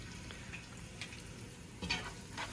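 Onions sauté in a pan with a soft continuous sizzle, broken by occasional scraping stirs of a spoon, fairly quiet and close.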